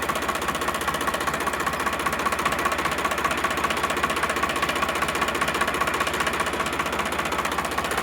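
An idling Sonalika RX 745 tractor diesel, a 2012 model on new engine oil, throbs in a constant quick knock, nearby and unchanging, with no one speaking.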